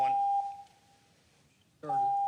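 A meeting speaking timer at a planning and zoning meeting sounds two steady electronic beeps, the first about half a second long, then a quiet gap, then a second tone, both fairly loud in a quiet room.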